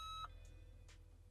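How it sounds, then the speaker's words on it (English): A single short electronic beep from a senior emergency alert button device, sharp and clear at the start, followed by faint quiet background. "You have 10 seconds to record your message after the beep."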